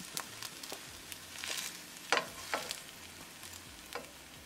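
Egg bread toast frying in a pan, a faint steady sizzle broken by light scraping and tapping of a spatula, close but quiet.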